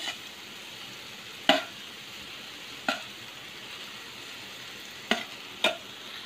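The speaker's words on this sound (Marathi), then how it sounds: "भात घातलाय, आपण जरा परतून घेणार आहोत।" Cooked rice stir-fried in a pan for street-style veg fried rice, a steady background sizzle broken by four sharp spatula scrapes and clanks spaced a second or two apart, with no talking.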